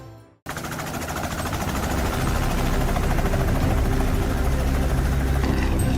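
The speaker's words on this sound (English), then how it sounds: "use a helicopter as their hunting vehicle" A helicopter roars loudly and steadily after a brief silent start, its rotor thump and engine drone building and holding close by.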